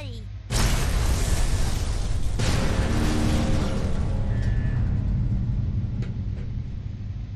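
Alien ship weapons fire and explosions in the game Fallout 3 erupt suddenly after a short quiet start, then continue as a heavy, loud, rumbling roar that slowly fades with a few sharper bursts.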